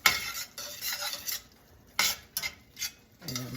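A utensil scrapes and stirs onions into browning ground beef in a pan, with repeated short scraping strokes and clinks in an uneven rhythm, close up and fairly quiet.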